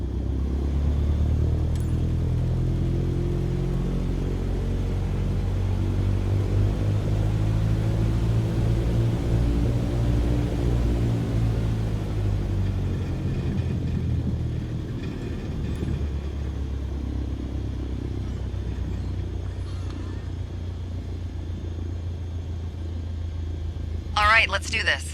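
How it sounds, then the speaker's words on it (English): An airplane taxis onto the runway in Microsoft Flight Simulator 2020, giving a steady low engine rumble with a faint whining tone that eases toward the end, ending in a brief rattling clatter. "Go ahead and taxi into position."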